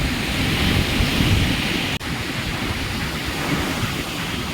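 Sea waves on a broad beach at Nellore wash in as a continuous roaring surf, loud and close, mixed with wind buffeting the microphone and one brief dropout midway, no voices.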